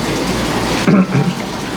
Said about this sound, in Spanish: Que Marina está escuchando el agua del bautisterio